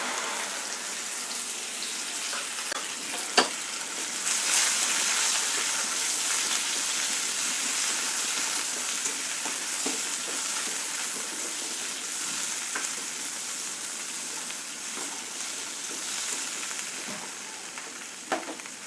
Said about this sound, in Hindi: तो जब तक हमारी हो रही है भिंडी फ्राई